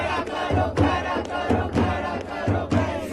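A large crowd of left-wing students chants slogans at a JNU protest gathering, loud massed voices rising and falling in a regular rhythmic beat roughly every second.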